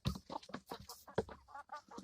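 Chickens cluck while pecking at a pie, a quick, busy string of close clucks and chatter filling the moment with barely a pause.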